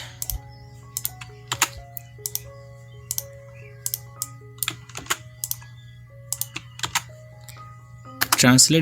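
Someone types on a computer keyboard into ChatGPT, making quick irregular bursts of close, crisp key clicks with short pauses between them, ending in a denser flurry.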